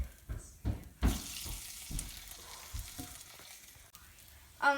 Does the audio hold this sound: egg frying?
yes